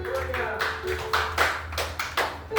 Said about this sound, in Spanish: Dale un aplauso al Señor, que se oigan los aplausos.